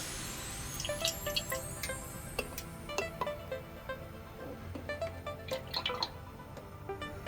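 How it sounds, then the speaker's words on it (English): Soft splashes and drips of water trickling into an empty soda can, faint and intermittent against a quiet background. "Have to put a little bit of water in there."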